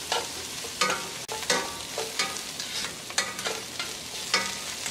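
Onions and cracked black pepper sweat in a pot for Guinness-braised oxtails: a soft, continuous sizzle broken by frequent sharp scraping strokes of a spoon stirring.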